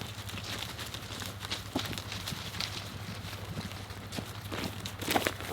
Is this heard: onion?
no